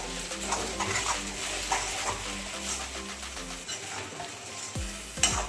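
Sabudana khichdi frying on low heat in a pan, a dense close sizzle with rhythmic scraping and clinking of a spoon stirring, ending in a sharper metallic knock, no talk.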